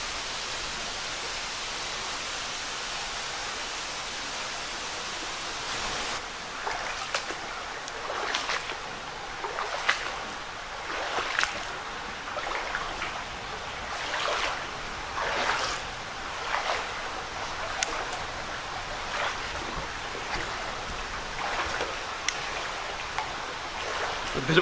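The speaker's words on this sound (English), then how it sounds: "A bit of a breeze blowing through here too." A breeze blows through a stone-lined culvert tunnel in a creek park, making a constant broadband rush with gusty swells and occasional soft bumps throughout.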